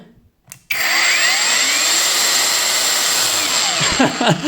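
A repaired cordless angle grinder, washed and tested without its battery, starts abruptly after a brief quiet moment and then runs with a loud, steady, high-pitched whine close by before a few clunks at the end.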